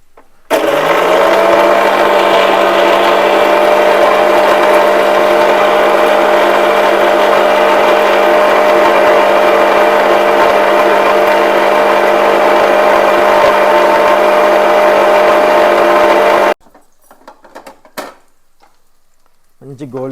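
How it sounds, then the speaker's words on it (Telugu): A kitchen mixer grinder whirs loud and steady for about sixteen seconds, blending ginger-garlic paste with two green chillies for prawn pulao, then cuts out abruptly, leaving faint handling clatter. "అల్లం వెల్లుల్లి పేస్ట్ కొంచెం 2 పచ్చిమిరపకాయలు వేసేసుకొని దీన్ని మిక్సీ పట్టుకుందామండి"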